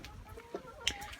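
Chickens on a home farm giving a couple of brief, soft clucks over a low background, heard close but faint.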